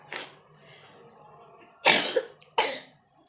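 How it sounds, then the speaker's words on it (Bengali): A person coughs three times up close: one short cough first, then after a pause two harsh, louder bursts in quick succession. Quiet room noise fills the gaps. "মামামের খুব কাশি হয়েছে"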